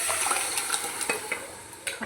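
Spices crackle and sizzle loudly in hot oil as a tempering for bele soppina saaru, a lentil and greens curry. The dense, close frying hiss runs throughout with sharp popping spikes and no voice.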